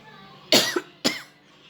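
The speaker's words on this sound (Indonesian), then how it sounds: "Maaf, Ibu batuk." A woman coughs twice in quick succession, close and clear, over a quiet room hum during a talk on rice prices, with no words spoken in between.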